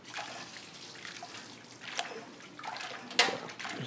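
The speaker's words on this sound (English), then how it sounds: "So it's really hot water coming out of there too." Hot water from a wort chiller hose runs and splashes during a home brewing session, a soft continuous trickle punctuated by a few sharper drips and splats, fairly quiet and close.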